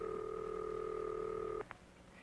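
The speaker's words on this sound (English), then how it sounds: "listen for the ringing signal." A telephone ringing signal heard after dialing: a steady two-tone ring that sounds for about a second and a half, then stops, leaving quiet line hiss with a brief click.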